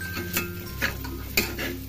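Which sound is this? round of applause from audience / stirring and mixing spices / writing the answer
stirring and mixing spices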